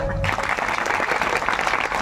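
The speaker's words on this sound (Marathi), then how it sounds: "बायकांच्या टाळ्यांचा आवाज जास्त होता" An audience clapping at a kirtan during a devotional week: a brief, loud burst of dense, even applause from a crowd, beginning suddenly after a short tone.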